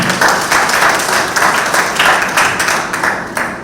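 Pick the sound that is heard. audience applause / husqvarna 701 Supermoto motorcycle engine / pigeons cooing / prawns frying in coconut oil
audience applause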